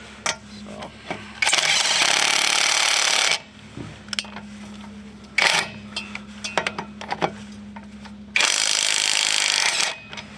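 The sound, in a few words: AutoJare 20V battery impact driver removing a lug nut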